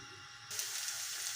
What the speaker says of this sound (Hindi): प्याज हमारा अच्छी तरह फ्राई हो गया है